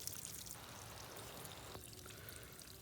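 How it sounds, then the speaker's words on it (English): Water hissing steadily from a soaker hose laid along the base of a row of tomato plants on a morning, a soft continuous spray-like rush with no talking. "I ran a soaker hose along the bottom, and it's morning, and I'm just gonna go turn that on."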